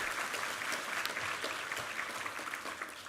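A congregation claps in praise during a Sunday church worship service, a steady even patter of many hands heard at a moderate, somewhat distant level with no voices over it.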